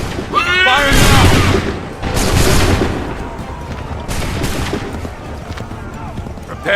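Musket volleys crack out in a battlefield scene from Assassin's Creed 3, several sharp loud bursts at close range with ragged rolling echoes trailing each one.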